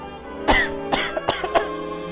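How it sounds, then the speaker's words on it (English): A few dry coughs in a short cluster, close and fairly loud, with small throat sounds between them. "I think I just have a little cough"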